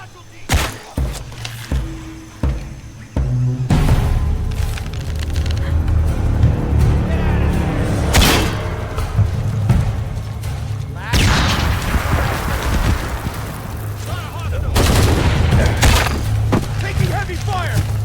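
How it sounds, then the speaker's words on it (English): Heavy gunfire and explosions in the video game Shadow of the Tomb Raider: sharp shots open the scene, then a sustained loud barrage of booms and impacts under shouted voices. "Taking heavy fire!"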